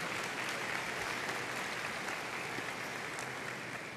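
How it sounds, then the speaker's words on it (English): Steady, dense applause from a graduation audience filling a school auditorium, many hands clapping continuously at moderate volume throughout with no break. "let's give her an applause for the outstanding job she has done"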